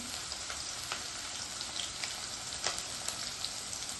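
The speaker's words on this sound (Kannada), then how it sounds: "ರುಬ್ಕೊಂಡಿರುವ ಖಾರನ ಹಾಕ್ತಾ ಇದ್ದೀನಿ" Steady sizzling of ground green chili paste added to bitter gourd frying in a pan, with soft crackles and light pops over a constant hiss.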